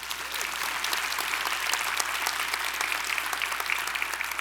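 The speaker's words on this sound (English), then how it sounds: "If y'all would give them a round of applause." Steady audience applause at a state association annual meeting, greeting the visiting state legislative delegation; dense, even clapping throughout with no pauses and no speech.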